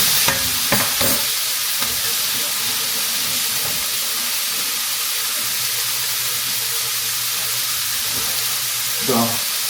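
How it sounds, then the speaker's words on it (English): Vegetables are stir-fried in a hot pan, giving a steady hiss and sizzle throughout. A few scraping clatters come from stirring near the start and the end, and a low hum sits underneath. "I'll add a little bit of this in here just to stir fry it up"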